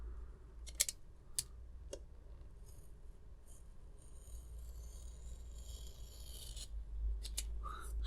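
Scissors or a craft blade cut out a window piece from a Disney dolls house part, quiet snips and crisp clicks scattered over a soft, low background, close and faint.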